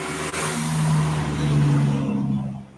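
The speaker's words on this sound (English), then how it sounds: "Noisy truck." A noisy truck rumbles past with a steady low engine drone and broad roar that swells and then fades toward the end, fairly close and loud.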